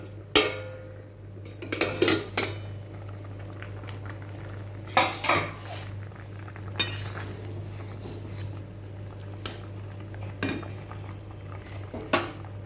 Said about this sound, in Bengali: এবার আমি ঢাকনাটা খুলছি।